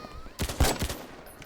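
Three quick, sharp gunshots crack in a rapid burst during Roblox AniPhobia gameplay, loud and close over a low game background.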